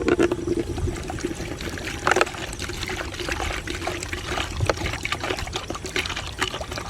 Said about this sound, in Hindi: डाल दिया हमने इसमें पानी